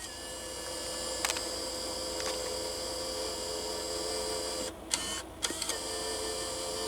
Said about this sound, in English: this is what happens when you put a GameCube, the game disc, in the Wii U